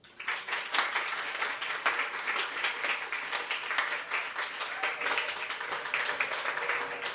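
An audience at a poetry reading claps steadily and warmly, a dense, sustained round of applause from a sizeable crowd indoors with no pauses.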